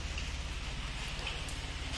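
Steady rain falls outdoors in the countryside, a dense, even hiss of drops that is soft but constant for the whole stretch, with no voices.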